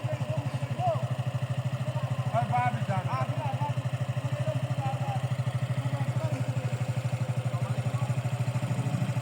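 A motorcycle engine putters at close range on a rough hill stream trail, a steady low rhythmic thrum with occasional clatter while people talk over it.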